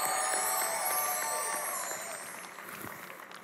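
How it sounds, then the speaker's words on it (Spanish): A studio audience applauds on a Spanish-language comedy show: a dense, steady wash of clapping at full strength that thins gradually toward the end, with no voices heard. "¡Fuerte el aplauso!"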